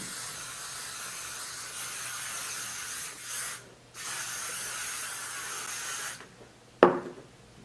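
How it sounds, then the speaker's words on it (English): Bumble and Bumble Spray de Mode hairspray hisses in long continuous bursts close by, pausing briefly between sprays, before a sharp click near the end. "I just make sure to spray, especially like the front part a lot."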